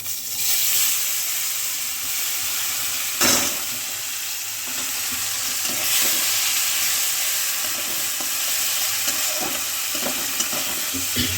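Ground spice paste hits a very hot kadai and fries with a loud, steady sizzle and hiss, close up, with occasional stirring scrapes and a brief louder burst early on, no talking.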